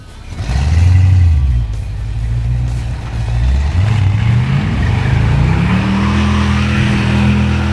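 Blown Jaguar-engined rat rod revving hard for a burnout in a parking lot, a loud, deep engine roar that surges, dips, then climbs steadily in pitch as the revs rise, with no talk.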